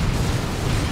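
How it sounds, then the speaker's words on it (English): Plasma cannon shots from Space Marine devastators in a Dawn of War II: Retribution match merge into a dense, continuous rumble of blasts and booms with no distinct gaps. "And we have a lot of plasma cannon shots,"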